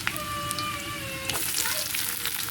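Chopped garlic fries in hot oil in a pan and is stirred, making a steady close sizzle with crackles and a brief scrape partway through, and faint tones in the background.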